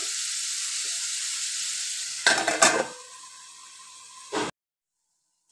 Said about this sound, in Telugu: ఇప్పుడు బీట్రూట్ అయితే ఇట్లా ఫ్రై అవుతుంది కదా, చూడండి